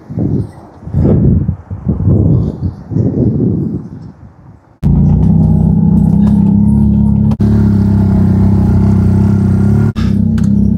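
A vehicle engine in low-range four-wheel-drive gear drones loudly and steadily while climbing a sloped dirt road in wintry Tibet. People talk at first, then the engine cuts in suddenly and holds at full throttle.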